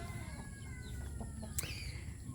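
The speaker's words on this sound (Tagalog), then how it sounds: "May mga manok." Chickens on a small integrated family farm cluck softly in a faint, busy background, with a brief sharper bird call near the end.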